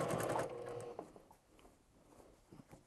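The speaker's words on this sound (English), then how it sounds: "I'm gonna go ahead and get these into the machine here with that same quarter inch seam allowance" Sewing machine stitching pieces of patchwork scarf fabric with a quarter-inch seam, a short close burst of rapid mechanical whirring that quickly stops, followed by faint handling taps.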